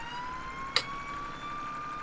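A fire engine siren in the FS:911 firefighting game, its tones changed, wails steadily at moderate distance beneath a brief sharp click, with no talk.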